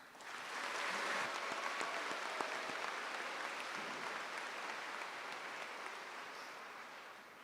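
Audience applause at a 2024 high school commencement ceremony, a broad, steady roar of clapping that swells in and holds evenly, heard alone.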